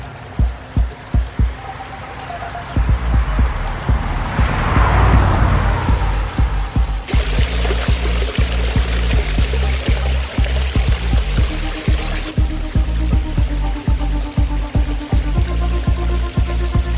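A front yard aquascape fountain with stacked slate urns in Frederick, Maryland splashes and trickles steadily up close, under a regular rhythmic knocking beat that runs throughout.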